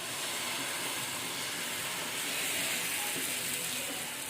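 Moong dal dosa batter spread on an oiled hot pan gives a steady, even sizzling hiss, continuous and close with no break or talk.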